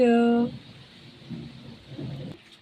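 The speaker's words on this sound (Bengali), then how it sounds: "বৃষ্টি পড়ছে, কালো হয়ে গিয়েছে মেঘ, এই দেখো মেঘ ডাকছে" Steady rain hisses throughout while low, rolling thunder rumbles swell twice in the middle and later part, after a short tonal sound at the start.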